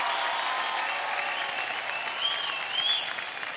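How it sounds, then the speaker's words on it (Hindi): Studio audience on the India's Best Dancer 3 dance show applauding after a duo's performance, a sustained, even round of clapping with a faint whoop or whistle near the end, no talking over it. "जोरदार तालियां हो"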